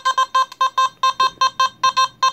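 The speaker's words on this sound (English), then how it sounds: "A nickel is a low tone." A Nokta Simplex metal detector sounds a low tone for a nickel: a dozen short, evenly spaced beeps in quick rhythm, loud and close, with nothing else heard.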